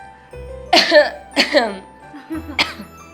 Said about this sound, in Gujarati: કેમ ઉધરસ તબિયત સારી નથી